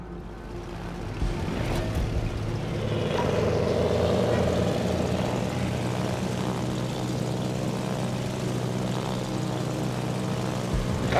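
Enemy aircraft engines drone steadily in World of Warships, a loud, continuous propeller hum with rumbling low end that swells after the first second and holds throughout, with no talk.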